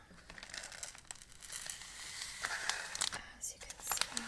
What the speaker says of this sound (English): obviously a very crinkly bag